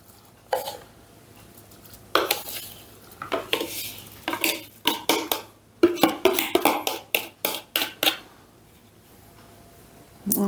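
Brown sugar, about 300 grams, scraped and tipped from a container into a slow cooker, a rapid run of clattering spoon and dish knocks in irregular bursts, close and fairly loud with no talking.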